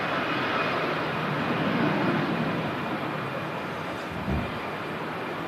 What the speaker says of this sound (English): Another EasyJet Europe aircraft, departing on runway 23 left.